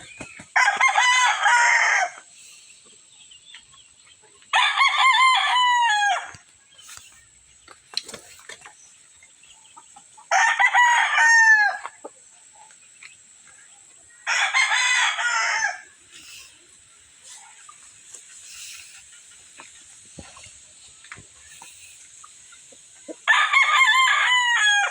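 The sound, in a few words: straight comb lemon rooster crowing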